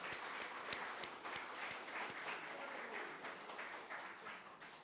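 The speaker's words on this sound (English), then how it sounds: "Let's give him a round of applause" Applause at a Nepal–UK economic partnership forum fills the room, continuous and fairly even, with distinct individual claps standing out early on before it settles into a soft, distant wash.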